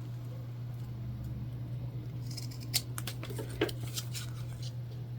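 A few quick, crisp scissor snips in the middle, cutting thread, over a steady low hum with no talking.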